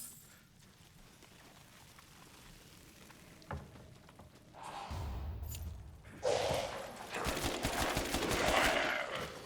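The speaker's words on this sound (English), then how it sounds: "So easy to accidentally fire 2 bullets instead of 1." Rapid gunfire in the video game Resident Evil Village, a sharp shot or two early on, then swelling bursts of shots, whooshes and thuds that grow louder and denser over the second half.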